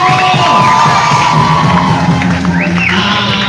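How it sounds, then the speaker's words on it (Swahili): A loud crowd applauds, cheers and shouts continuously at a launch event, with children's voices rising above a dense, steady roar of excitement. "Wapi makofi ya Roda na Gio?"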